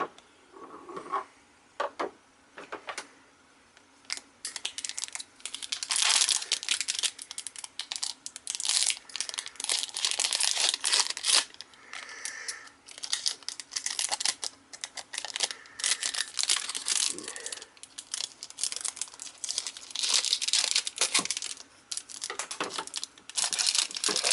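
Ultra Pro Pokemon X Y Fennekin deck box packaging sealed with tape being cut open, with bursts of crinkling, scraping and tearing of plastic and tape close up, uneven and handled, with no talking.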